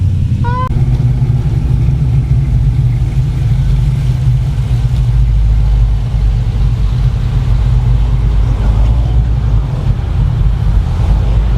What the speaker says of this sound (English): show y'all some cool rolling footage of Pecos and Rick's square body with the billet wheels